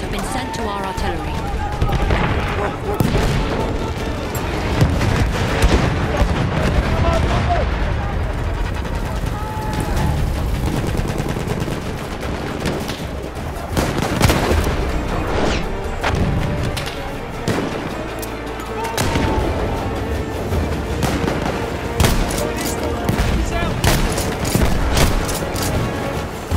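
An artillery barrage in Battlefield V rolls on with repeated heavy booms and crackling gunfire, loud and sustained across the stretch, with voices heard at times.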